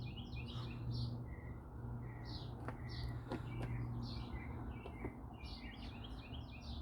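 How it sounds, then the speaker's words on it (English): Several small birds chirp and trill outdoors in short, repeated bursts, fairly clear against a steady low background rumble, with no one talking. "Except the birds."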